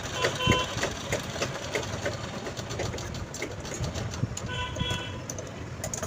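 A sewing machine stitches a small girl's Anarkali frock, running in a steady rapid whirring chatter with brief pauses and speed changes, close and moderately loud throughout.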